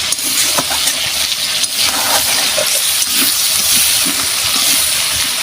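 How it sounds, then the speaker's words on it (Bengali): Chicken bubbling vigorously in its own released water and oil for a mango chicken dish, a loud, dense, hissing boil with scattered pops and crackles throughout. "চিকেন থেকে কিরম জল বেরিয়েছে দেখুন জল আর তেলে ফুটছে"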